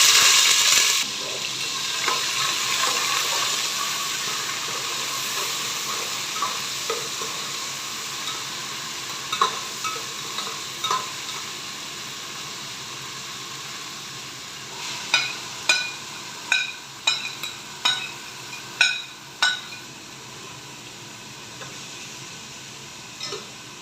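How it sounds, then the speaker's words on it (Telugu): Bay leaves and whole spices sizzle in hot oil for chicken dum biryani, a loud initial hiss settling into a steady frying crackle, then a run of sharp rhythmic scrapes and taps as the pan is stirred. "ఆయిల్ వేడెక్కిందండి. బిర్యానీ ఆకులు, మసాలా సరుకులన్నీ వేసేసుకుందాం."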